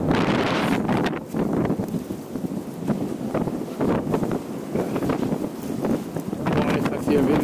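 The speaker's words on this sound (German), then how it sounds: "der Wind ist so laut" Strong gusting wind buffets the microphone throughout in the Carpathian Mountains, a loud roaring rumble with voices faintly talking underneath.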